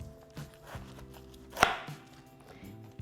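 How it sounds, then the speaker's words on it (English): A knife cuts through a medium-sized cabbage, splitting it down the middle with one sharp, crisp crunch. Softer handling knocks come before and after it in an otherwise quiet kitchen. "We're going to slice it right in the middle."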